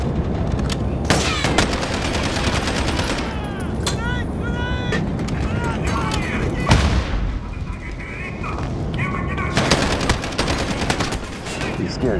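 Dragon's breath incendiary shotgun blasts in Call of Duty: Modern Warfare, a chaotic firefight with repeated loud gunshots and bursts over a constant roar, with talk underneath.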